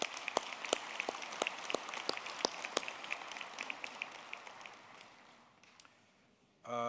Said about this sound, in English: I think it's appropriate that we give you a round of applause.